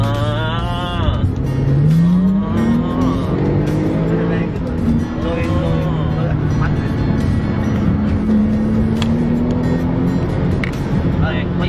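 A car engine switched into sport mode revs and climbs through gears with a throaty roar, sustained and close, while someone talks over it.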